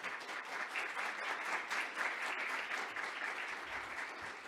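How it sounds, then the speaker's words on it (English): An audience at an AI commission launch event claps in sustained applause, a dense, even patter of many hands heard at a modest distance. "I want to ask folks to give a round of applause for our two co-chairs for their great work."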